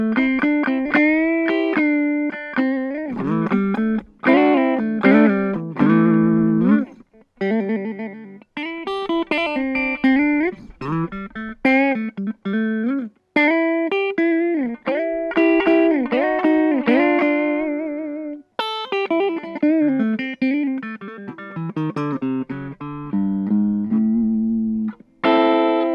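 Electric guitar played through a Hotone Nano Legacy British Invasion amp head with no effects and all controls at midpoint, a slightly overdriven tone running through phrases of melodic single notes and chords with short pauses, with no voices.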